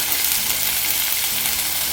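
Tomatoes frying in a pan with spices and ginger garlic paste give off a steady, loud, close sizzle with crackling hiss that never lets up, and no one talks over it.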